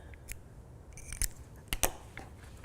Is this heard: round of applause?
no